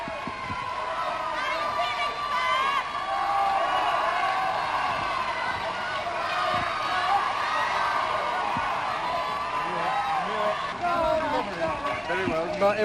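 A large crowd gathered outdoors produces a continuous murmur of many voices with scattered shouts and cheers, lively and at middle distance, with people talking over it.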